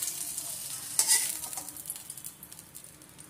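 Food fries in oil with a quiet, close sizzle, a brighter burst of spitting and a utensil clink near the start, then a gentle crackle that tapers off.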